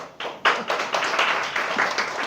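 An audience at a Hindi-language church gathering claps, a loud, dense patter of many hands, near and continuous, with a voice faintly underneath.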